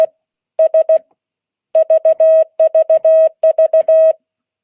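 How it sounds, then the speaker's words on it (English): Morse code letter V keyed three times: short steady tones in groups of three dits and a dah, repeated crisply with pauses between groups, alone with no talk. "That's a letter V 3 times."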